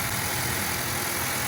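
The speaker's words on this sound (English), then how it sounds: "So let's start up the engine." A 2014 Mazda 2 (Demio) engine idles with a steady, even hum, continuous and fairly close with no talking over it.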